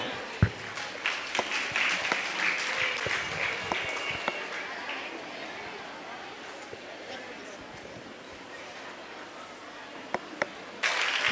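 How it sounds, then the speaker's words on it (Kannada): Audience applause at a school annual prize distribution function, a steady sustained clapping from a crowd lasting the whole stretch, thinning slightly toward the end with a few sharper claps. "ಜೋರಾದ ಚಪ್ಪಾಳೆಯ ಮೂಲಕ ಸ್ವಾಗತಿಸೋಣ."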